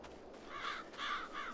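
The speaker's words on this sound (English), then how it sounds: "Get out of here, birds." Crows caw in Farming Simulator 22, three harsh calls spaced about half a second apart over a steady outdoor ambience, moderately loud.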